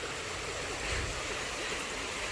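Water of a natural hidden spring at Little Baguio flowing steadily, a soft continuous rushing and babbling that stays even and fairly faint throughout, with no voices over it.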